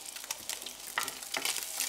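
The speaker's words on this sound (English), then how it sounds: "wait for the butter to melt and start to sizzle before adding your cured veal. Add your walnuts and stir." Cured veal and walnuts sizzle in melted butter and oil in a pan, a steady close crackle of frying with bursts of spitting as the mixture is stirred.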